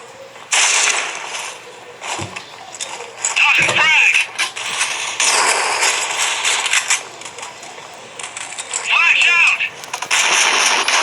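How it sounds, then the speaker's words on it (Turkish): Shotgun blasts in an online first-person shooter, several loud sharp bursts with pump and reload clatter between them, mixed with game noise and a player talking. "Pompalı."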